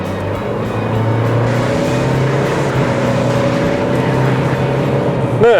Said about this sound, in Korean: 그럼 지금부터 닛산 캐시카이와 함께 달려보겠습니다